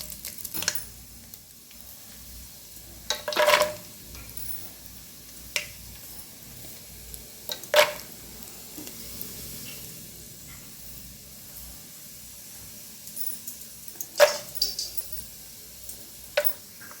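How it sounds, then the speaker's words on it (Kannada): Peanuts frying with cinnamon and cardamom in a pan on a stove, a soft steady sizzle punctuated by a few louder bursts of hissing and stirring scrapes, with no speech. "ಒಂದು ಸ್ವಲ್ಪ ಸ್ಟವ್ ಜೋರು ಮಾಡಿಕೊಂಡು ಫ್ರೈ ಆಗಬೇಕು."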